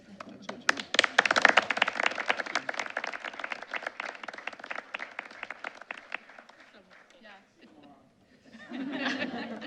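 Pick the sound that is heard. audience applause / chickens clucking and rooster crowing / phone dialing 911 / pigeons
audience applause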